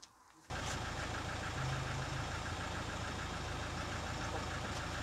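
A motorcycle engine fitted with a Spark exhaust fires up after a jump start with clamps, catching abruptly after a quiet moment and then running at a steady, rumbling idle.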